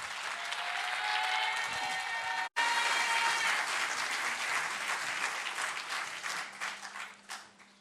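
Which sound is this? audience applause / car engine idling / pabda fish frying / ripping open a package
audience applause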